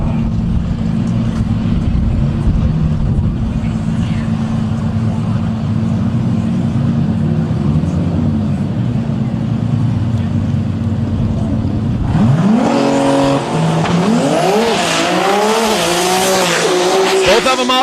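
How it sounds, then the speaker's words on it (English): Two Nissan GTR drag race cars idling loudly at the line, then launching with a sudden roar and rapidly climbing, shifting engine notes as they accelerate away, a race announcer talking over them. "Both of them off the starting line."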